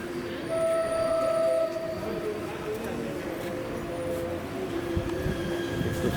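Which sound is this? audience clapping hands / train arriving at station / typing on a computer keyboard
train arriving at station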